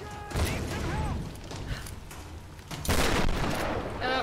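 Rapid bursts of gunfire and mechanical clatter in the video game Tomb Raider, loud and close, forming dense volleys with a short lull between them.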